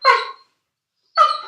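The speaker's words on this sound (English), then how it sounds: "the studio dog is very excited" A studio dog gives two sharp, loud barks about a second apart, close up, with silence between them.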